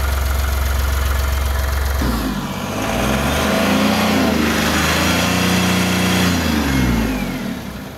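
A 2020 Dost Plus 9-foot light truck's engine idles with a low, steady rumble, then revs up to a louder, sustained roar before easing down near the end. The engine is close and heard alone, with no talk.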